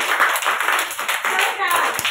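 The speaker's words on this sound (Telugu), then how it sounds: "Claps కొట్టండి అందరూ. చాలా గట్టిగా కొట్టండి." Anganwadi children clap their hands together in a quick, busy burst of overlapping claps, close and fairly loud, with voices mixed in.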